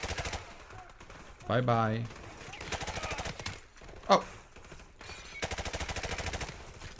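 Rapid automatic gunfire bursts in Call of Duty: Modern Warfare Remastered, with rattling volleys rolling through the clip, a sharp louder shot near the middle and a fast burst at the end, while a player speaks briefly.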